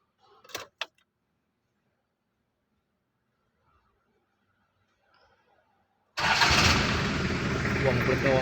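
A 1991 Toyota Hilux with a 3L diesel engine cranks and fires on the first try. Two brief clicks come first, then near silence, then a loud, steady engine roar that carries to the end.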